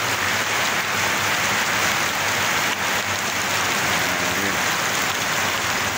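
Heavy rain pours in a loud, dense, unbroken wash of hiss and patter close by, with no talking.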